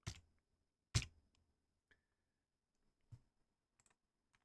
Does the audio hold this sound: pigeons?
no